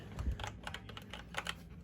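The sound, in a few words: typing on a mechanical keyboard with Cherry MX Blue clone switches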